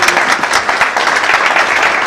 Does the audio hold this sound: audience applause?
yes